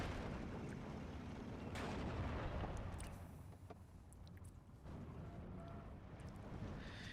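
Artillery fire from Nebelwerfer rocket launchers and mortars in the video game Steel Division 2, a dense, continuous rumble of blasts and distant booms through the whole stretch, with no talking.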